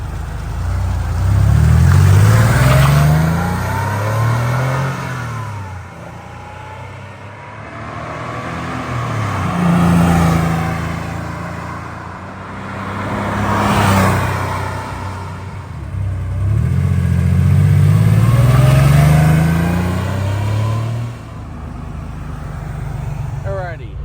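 A 1987 Porsche 911 3.2 Carrera coupe passing on repeated flybys, its engine swelling loud as it accelerates by, then fading, three passes in a row, with people talking in between.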